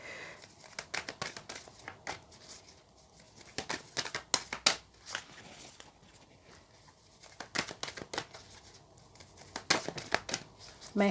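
An oracle card deck, Le Vampire's deck, being shuffled by hand, close, with irregular bursts of riffling, slapping and crinkling card noise separated by brief quiet pauses.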